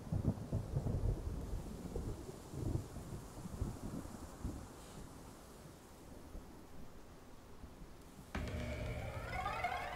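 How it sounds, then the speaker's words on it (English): Thunder rolls through a stormy scene in the video game Black Myth Wukong, a loud low rumble building and fading across the stretch, with a sharper crackling burst near the end suggesting lightning. "there's lightning here"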